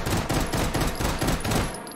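A stocked Beretta M93R machine pistol fires in the VR game H3VR in a rapid string of evenly spaced, loud close bursts that repeat about seven times in two seconds, with no talking.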